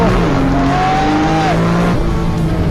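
A fully modified race car engine revs hard at a Songkhla street car festival, its pitch climbing through the gears with quick drops at each shift, loud and close.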